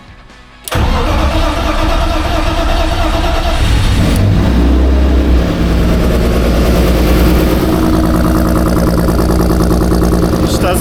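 An engine that sat outdoors by a fence for three years cranks and catches after fuel is pumped in, then keeps running with a loud, steady idle and some revving, with a light ticking of the valve lifters.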